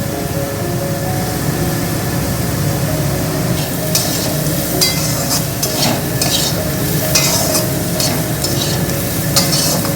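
Dry-fried potato pieces being stirred in a pan with dried and fresh green chillies as turmeric goes in, a steady loud sizzle broken by scraping spatula strokes throughout.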